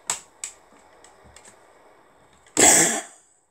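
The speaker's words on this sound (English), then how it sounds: "that was his sneeze slash cough thing" A few small clicks and taps, then a single loud, abrupt sneeze-like cough burst near the end, close by.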